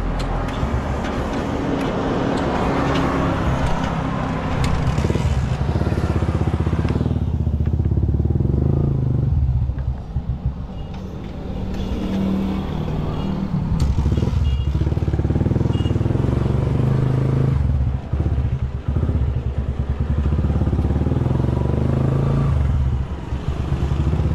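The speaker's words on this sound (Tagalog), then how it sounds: "Tricycle." A motorcycle tricycle in the Philippines drives past close by, its engine droning steadily for most of the stretch with rattly clatter and road noise, easing briefly around the middle before picking up again.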